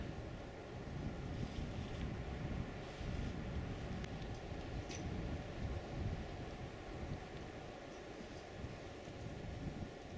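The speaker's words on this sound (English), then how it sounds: "Pretty good stiff breeze all morning this morning." Steady stiff wind roaring across the microphone on Windy Ridge near a trail saddle, a continuous low rumble with gusty swells and no voices.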